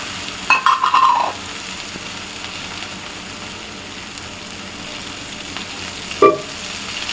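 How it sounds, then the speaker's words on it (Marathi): Okra frying in oil in a pan on high heat gives a steady soft hiss, with a short burst of clattering stirring near the start and another brief clink later, close and quiet, no talking. "आता तेल घातल्यानंतर भेंडी थोड्या वेळ आपल्याला भाजून घ्यायची आहे।"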